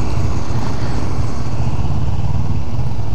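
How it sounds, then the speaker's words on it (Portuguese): A Honda PCX scooter being ridden, a loud, close engine rumble with steady wind noise running the whole moment. "Aí, ó, PCX. Motinha legal, hein?"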